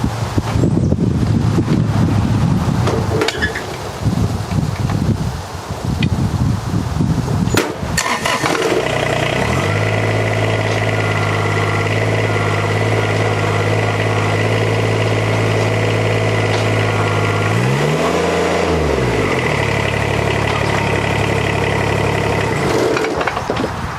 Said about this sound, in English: Let's see if the tractor will lift it.